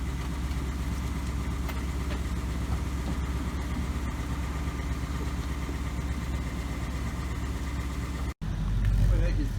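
A 2019 Bullitt Mustang engine runs steadily at idle, a loud continuous low rumble close by with a brief cut near the end, voices mixed in over it.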